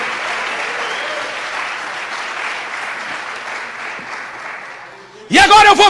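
A church congregation applauding, a broad sustained wash of clapping from a large crowd that slowly fades, then cut off by a loud burst of singing or music near the end.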